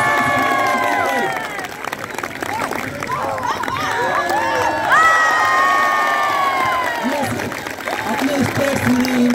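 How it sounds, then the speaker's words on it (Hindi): A crowd cheers and shouts throughout at a police athletics meet with unarmed combat demonstrations, a loud, continuous mix of whoops and hubbub with scattered clapping, rising in a swell partway through. "दोस्तों तालियां बजाकर ताली रुकनी नहीं चाहिए सबके लिए।"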